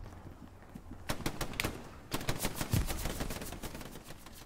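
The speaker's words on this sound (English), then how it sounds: "They're just fucking shooting us as we run out into the road." Rapid bursts of gunfire from Hell Let Loose, the WWII multiplayer shooter, crackle in volleys near and loud, with sharp repeated shots clustering through the second half amid battlefield ambience.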